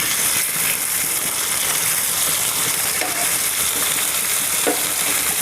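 Marinated fish fries in oil on a tava, giving a loud, steady, close sizzle that crackles throughout without a break, and no voices are heard.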